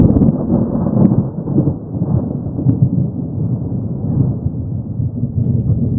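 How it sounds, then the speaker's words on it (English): A thunderstorm during a tropical storm, heard from a clearing where a truck is parked: a loud, continuous low rumble of thunder and heavy rain with a few faint sharp crackles, no voices. "the storm is right on top of us at the moment"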